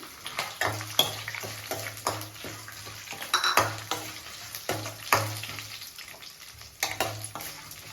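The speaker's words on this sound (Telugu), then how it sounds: "ఇవి ఫ్రై అవుతూ ఉంటాయండి" Cashew nuts frying in a pan for lemon rice, a soft steady sizzle broken by repeated stirring scrapes and taps of a spoon against the pan, close and fairly quiet.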